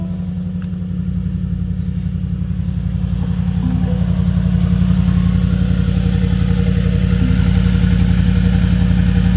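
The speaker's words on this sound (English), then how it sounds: "Cold start in the G63." A Mercedes G63 AMG engine at cold start, with side exhaust pipes, running at a loud, steady, deep idle that rumbles close by and swells slightly over time, with no talk.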